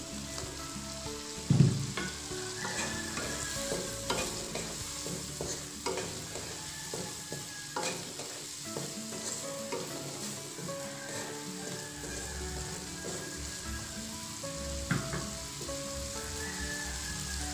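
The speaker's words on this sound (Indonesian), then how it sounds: "Kemudian saya masukkan brokoli," Broccoli stir-frying in a pan with powdered stock for a broccoli, tofu and oyster sauce dish gives steady, close sizzling and spitting, broken by occasional scraping and clinking of stirring, with no voices.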